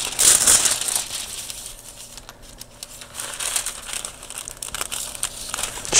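Vellum sticker sheet being trimmed, close crinkling and crisp cutting sounds in short bursts with quiet pauses between.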